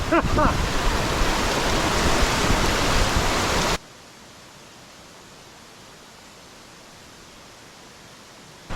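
Loud, dense roar of rushing water at Tumpak Sewu Waterfall in East Java, Indonesia, for a few seconds, then cutting abruptly to near quiet.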